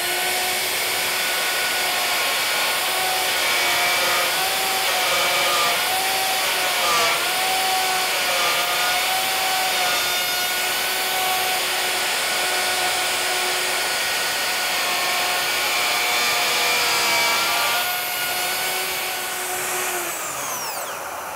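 A power tool cuts dovetail sockets in wood using a dovetail jig, giving a continuous high-pitched whine that holds nearly steady for about twenty seconds, with slight pitch dips as it bites into the wood.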